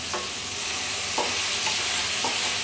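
Beef steaks searing in a hot pan with one side left to char, giving a steady close sizzle broken by a few short scraping or stirring bursts.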